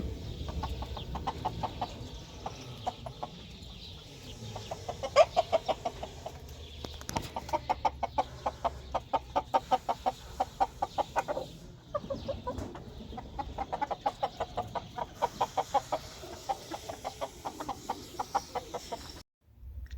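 Chickens cluck in quick repeated bursts in a desert, with a rooster-like call mixed in, fairly close and continuing steadily for the whole stretch.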